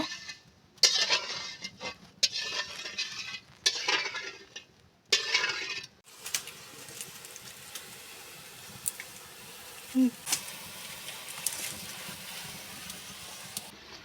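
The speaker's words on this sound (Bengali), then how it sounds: "এইভাবে নেড়ে নেড়ে আমি চিনির শিরাটা তৈরি করে নেব" Sugar syrup being stirred in a pan for moroli sweets, with bursts of scraping and metallic clinks in the first few seconds, then a quieter bubbling simmer and occasional light taps.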